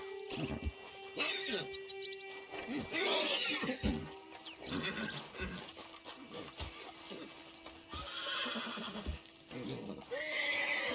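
A horse whinnies and snorts amid hoof clops and sound effects in Red Dead Redemption 2 Online, with a voice speaking over parts of it.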